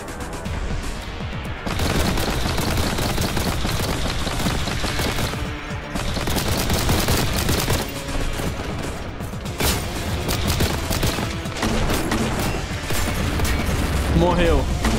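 Rapid bursts of gunfire in Warhammer 40k: Boltgun crackle almost continuously, with loud shots and explosions layered over a busy backdrop of game sounds.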